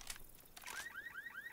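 A car alarm in the video game Left 4 Dead 2, heard as faint repeating electronic chirps that rise in pitch, following a few short bangs, quiet in the distance.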